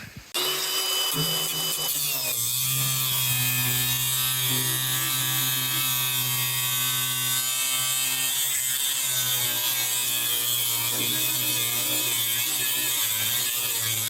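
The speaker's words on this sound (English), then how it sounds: "So I'm just going to slice along the fold here" A power cutting tool slices along the fold of a rusted steel panel on an old Cushman Truckster golf cart, a loud continuous whining buzz with shifting pitch that runs nearly unbroken throughout.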